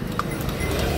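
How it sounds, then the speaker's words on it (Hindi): A horse passes on a roadside in India near Lucknow, its hooves clip-clopping on the road under a constant, loud rumble of engine and traffic noise. "ये भाई घोड़ा गया"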